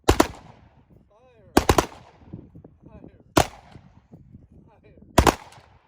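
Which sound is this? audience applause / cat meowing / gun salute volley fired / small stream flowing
gun salute volley fired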